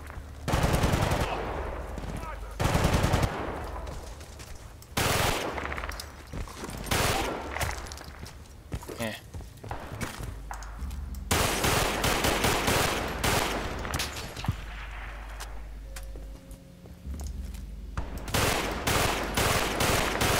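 Rapid rifle fire in Battlefield: Bad Company 2 rings out in loud repeated bursts and strings of shots, with pauses, footsteps and ambient battle noise between them and a voice occasionally under the action.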